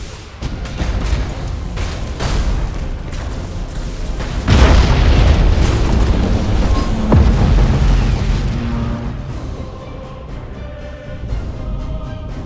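Starships blowing apart in the space battle game Battlefleet Gothic: a series of heavy booms, with one big, deep explosion roaring up midway before the rumble slowly fades into quieter sound effects.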